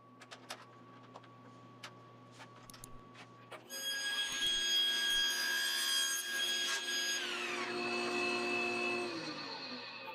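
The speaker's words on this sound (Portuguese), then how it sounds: "posso alinhar algumas bordas usando o trenó de corte transversal na serra de bancada" A table saw with a crosscut sled cuts wood in a home workshop: after a few faint knocks, the motor spins up into a loud sustained whine with a harsh cutting tone, then winds down at the end.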